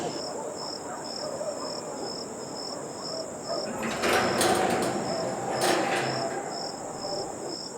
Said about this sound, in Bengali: বাড়ির চারপাশে শোঁ শোঁ হাওয়া ঝিঝি পোকার আওয়াজ